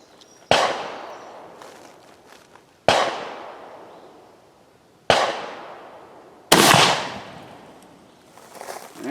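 Gunshots from a slug-modded gun at a range test, four loud sharp cracks spaced a couple of seconds apart, each followed by a long fading echo.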